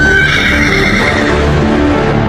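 A horse neighs loudly and continuously in a close, harsh whinny while fighting off Komodo dragons, with no speech.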